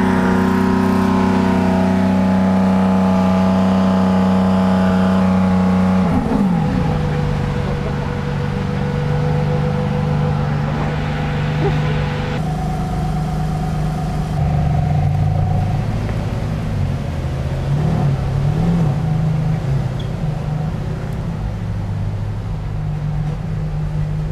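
A Ferrari engine in Monaco held at a steady 3000 rpm while being tuned, giving a loud, sustained harmonic drone that shifts pitch partway through, with fluctuating revs in the later stretch.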